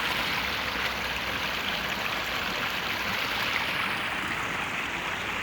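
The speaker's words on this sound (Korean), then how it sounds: "여기도 물이 잘 흐르고 있어요" Water flowing steadily in a garden stream, a continuous close rushing babble with no breaks and no talk.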